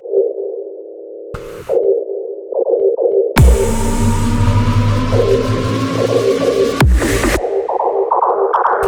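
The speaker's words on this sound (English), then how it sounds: "we have the main lead of this sound, but it's very filtered out" A heavily filtered main lead synth from a tearout dubstep drop, muffled and narrow-band at first, then a fuller burst with deep bass for several seconds before the filtered tone returns, loud and with no voices.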